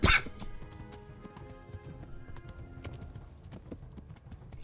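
Horse hooves clip-clopping at a brisk gallop in the medieval video game Kingdom Come: Deliverance, a steady rapid beat of thuds with faint dog barking and other game noise behind.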